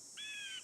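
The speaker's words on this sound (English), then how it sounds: "Blue jay." A blue jay call from the Nancy Drew video game: one short, harsh, rising-then-level cry with bright harmonics, heard alone over a steady faint hiss.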